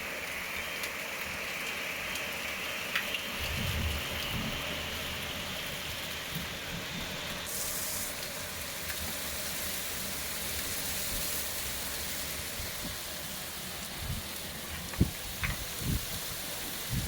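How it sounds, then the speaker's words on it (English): Hailstones patter steadily during a sudden storm in England, a dense, even hiss of impacts with a few sharper hits standing out close by. "It looks like we're now getting hailstones. Yep, definitely hailstones."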